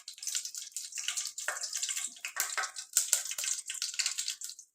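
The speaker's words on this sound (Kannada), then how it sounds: "ಸಾಸಿವೆ ಎಲ್ಲ ಚೆನ್ನಾಗಿ ಚಟಪಟ ಅಂತ ಸಿಡಿದ ತಕ್ಷಣ" Mustard seeds spluttering in hot oil while tempering for sambar, a dense, close crackle of rapid pops and sizzle that runs steadily throughout with no talk.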